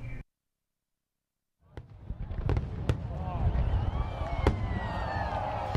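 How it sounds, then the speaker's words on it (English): Diwali fireworks burst across the night sky, sharp cracks and pops scattered over a steady crackling roar after a brief silent gap, heard from a moderate distance. "people are lighting up the sky with fireworks"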